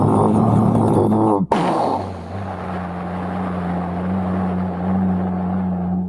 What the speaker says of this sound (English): I'm going to hit the engines just to fire them up.